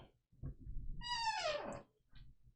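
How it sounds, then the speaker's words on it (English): A squeaky chair lets out one drawn-out, high, pitched creak that bends downward in tone, framed by soft low thumps of shifting weight before and after. "Squeaky chair, boys, squeaky chair."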